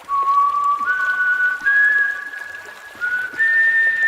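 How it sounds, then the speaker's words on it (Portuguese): A single high-pitched whistle sounds in steps, rising tone by tone with brief pauses, clear and thin over a faint background hiss. "Um assobio agudo se fez ouvir ao longe."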